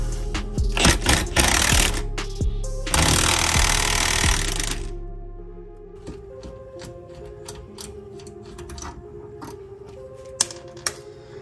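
Ratchet wrench with a swivel working a 19 mm bolt loose under an Infiniti Q50 during a limited-slip differential install, heavy ratcheting bursts and clanks up close, then quieter clicking and rattling.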